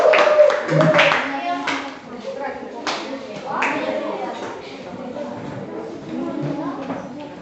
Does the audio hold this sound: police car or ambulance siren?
no